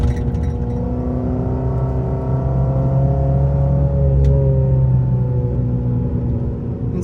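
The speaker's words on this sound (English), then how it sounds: "Now, as you notice, the exhaust is a lot louder." A car engine revs steadily with a loud, droning exhaust, its low rumble swelling slightly midway and holding strong throughout.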